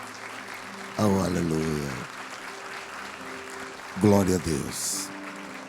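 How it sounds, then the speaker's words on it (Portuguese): A church congregation claps steadily through a worship service while voices call out praise in Portuguese over the applause. "Vamos aplaudir o Senhor, irmãos."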